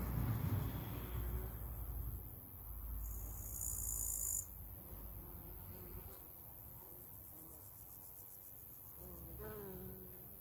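Insects in a backyard flower garden, crickets chirping and bees or flies buzzing, a continuous insect chorus with a louder buzzing stretch early on, then softer chirping.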